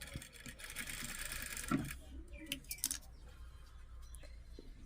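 Sewing machine stitching lace fabric for a lehenga: a soft rapid mechanical whir for about two seconds, then stops, followed by faint clicks and handling noises.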